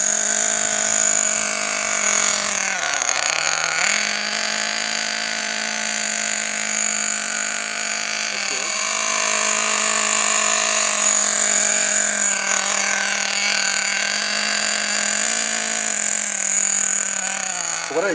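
A nitro RC buggy engine runs at about quarter throttle while being broken in. It makes a continuous, close, nasal buzz whose pitch dips briefly a few times and otherwise holds steady throughout.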